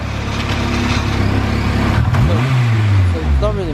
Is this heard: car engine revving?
yes